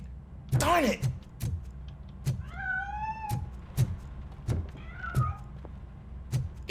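A cat in the video game RoboCop: Rogue City gives several distinct, clear meows, some drawn out, over regular dull thumps that repeat steadily.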